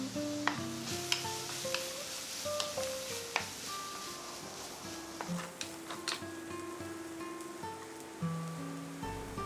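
Marrow curry ingredients (green chillies and curry leaves) sauté in a pan with a quiet hiss, punctuated by scattered spatula clinks and scrapes against the pan, fairly faint and close, with no talking.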